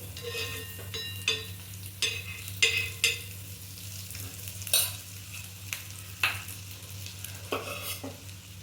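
A quesadilla toasting in butter in a pan over low heat, with soft steady sizzling under a series of sharp scrapes and taps from a spatula against the pan.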